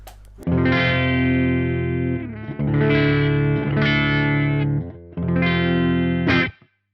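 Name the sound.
electric guitar through amp with bright switch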